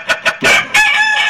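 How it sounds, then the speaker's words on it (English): Two short clucks lead into a loud, close rooster crow, its drawn-out cry ringing clearly over a brief pause. "That's the rooster crow that wakes me up every morning"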